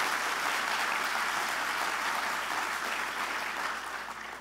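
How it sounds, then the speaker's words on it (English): Steady audience applause fills the room, with even, dense clapping from many people that holds for several seconds before tapering slightly at the end. "So give you all a round of applause"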